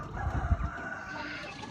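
Chicks on a farm clucking and peeping while being fed coconut pulp and feeds, a dense chorus of close bird calls with some low thumps early on.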